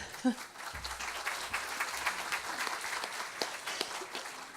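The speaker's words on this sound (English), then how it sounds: "Some applause, please." Faint, thin applause from a conference audience after a session presentation, scattered clapping carried at low volume with some background murmur.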